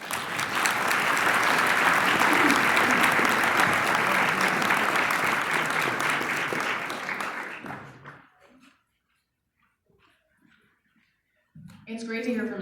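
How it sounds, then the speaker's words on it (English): Audience applause at an MLK Day 2025 event, loud, steady clapping from a crowd lasting about eight seconds before fading to silence, then a voice begins at the end. "let's give them a round of applause"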